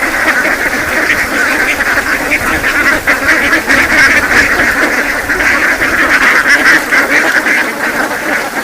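A flock of farm ducks quacks continuously and loudly at close range while walking in a group and pecking scattered grain, the overlapping calls forming a dense, busy chorus.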